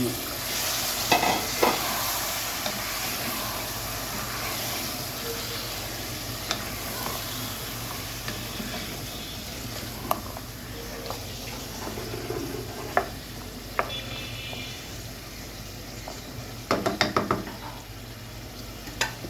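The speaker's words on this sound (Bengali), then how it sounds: "পেঁয়াজটা কিন্তু ফিফটি পার্সেন্ট আমার ভাজা হয়ে গিয়েছে" Sliced onions fry in oil in a pan, a steady close sizzle broken by scraping stirs and clatters of a spatula, no one speaking.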